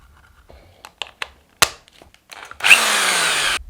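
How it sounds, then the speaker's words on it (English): A few scattered clicks and knocks, then an impact drill whirs loudly for about a second as its pitch winds down. "An impact drill is no joke."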